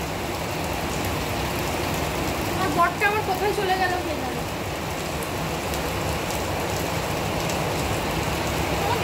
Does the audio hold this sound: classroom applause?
no